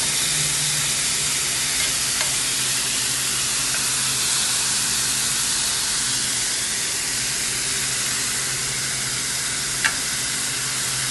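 Seasoned shrimp frying in a pan in the same pan used for salmon, giving a steady close sizzle and hiss throughout with a couple of faint clicks.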